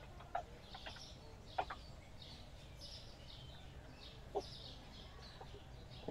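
Chickens in the supermarket simulator game Supermarket Simulator give a few short, soft clucks spaced a second or more apart, over a low background hum.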